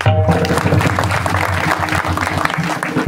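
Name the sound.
audience applauding for the mothers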